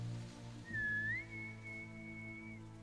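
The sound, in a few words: whistled greeting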